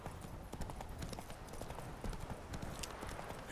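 Hooves of a galloping horse in The Witcher 3 make a fast, continuous clip-clop drumming over a low game soundscape, faint overall and steady throughout.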